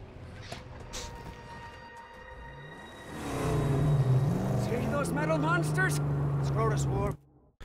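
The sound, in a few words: car engine in the video game Mad Max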